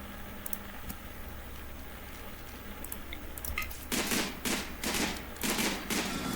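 Rapid gunfire bursts in a winter battle against mechanoids in the game Rimworld, scattered light shots at first, then dense loud volleys of automatic fire in the second half.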